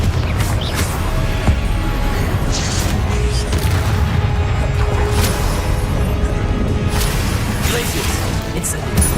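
Spells in Hogwarts Legacy, including fire, ice, stunning and blasting curses, set off a relentless barrage of loud booms, crashes and whooshes. The impacts overlap densely without a pause, with occasional voice-like sounds in the mix.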